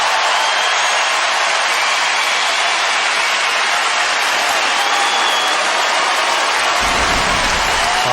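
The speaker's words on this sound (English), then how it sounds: "Obviously, the crowd is pumped up" Dense, sustained applause and cheering from the crowd at the 2006 US Open tennis final between Federer and Roddick, loud and continuous throughout with no talk.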